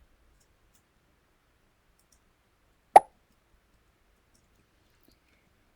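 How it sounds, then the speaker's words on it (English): A single short pop from a Scratch Junior sound effect, a quick bright plop heard once in near silence. "the pop sound occurs somewhere in the middle of the script"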